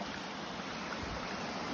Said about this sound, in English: Stunning little river flowing through a valley.